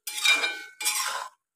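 A utensil scrapes and clinks in a pan while bitter gourd stir-fry with tamarind water and jaggery is stirred, two short rustling strokes close by with no talking.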